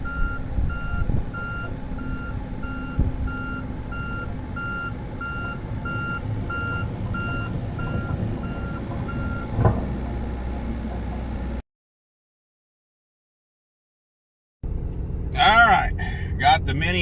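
A Bobcat mini excavator, a C50 model, sounds a steady series of reversing beeps over a low diesel engine drone for about eleven seconds, then falls silent before a rougher burst of engine and clatter returns.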